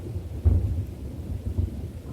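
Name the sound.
thunder and rain sound effect in a radio play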